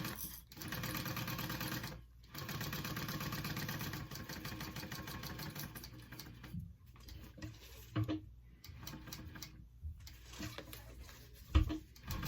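A sewing machine stitches a backpack strap in quick, rattling runs, stopping and starting with short pauses between bursts and a few soft clicks as the fabric is adjusted.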